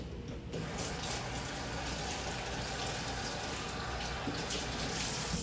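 Running tap water splashes steadily as a can of coconut milk is rinsed under the faucet, a close continuous hiss with small shifts as the can moves through the stream.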